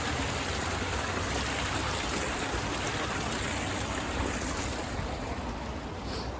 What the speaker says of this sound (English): Look at that, it's a little waterfall down there.